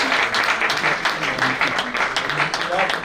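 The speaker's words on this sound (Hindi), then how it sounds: "जोरदार तालियां" Audience applause at a Hindi poetry book launch, a brisk burst of clapping that runs throughout, mixed with voices talking over it.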